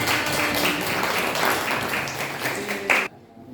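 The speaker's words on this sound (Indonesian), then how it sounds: "Tepuk tangan buat Hana." Classroom students clap for a classmate, a dense burst of applause that runs steadily for about three seconds, then cuts off abruptly into near silence.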